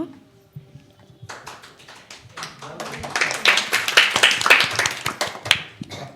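A group of children claps after a short quiet start, the hand claps thickening into loud, dense applause close by, with voices mixed in underneath.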